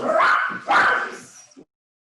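A house dog barks excitedly at a doorbell indoors, two sharp, loud barks followed by a shorter yip before going quiet.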